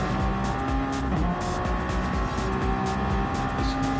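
Ferrari race car in Gran Turismo 7 at Laguna Seca during a GT league race, engines droning loudly and continuously with tire squeal and cars passing close by throughout.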